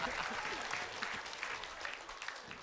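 A studio audience at a comedy show applauds in a dense, even wash of clapping, moderately distant and continuous throughout.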